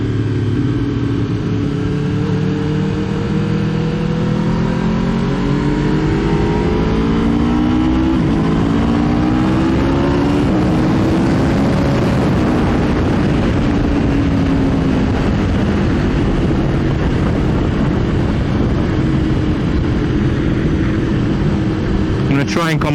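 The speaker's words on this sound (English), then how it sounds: "A lot of power in this bike compared to what I'm used to around here." A 2020 Aprilia RSV4 1100 Factory superbike on track at Cadwell Park, its engine loud and continuous with rising and falling pitch as the rider accelerates and shifts through gears, with wind rush throughout and a voice talking over it.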